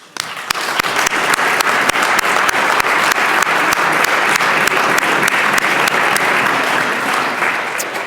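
Applause from a state legislative chamber welcoming visiting Manchester students, a dense, sustained round of clapping that holds strong for several seconds before tapering slightly.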